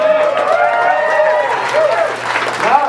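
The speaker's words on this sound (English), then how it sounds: "You don't applaud for a prayer." An audience applauds after a spoken prayer at a comedy show, a loud dense clatter of clapping mixed with cheering and crowd voices that fills the whole moment.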